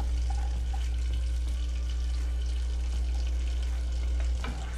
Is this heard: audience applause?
no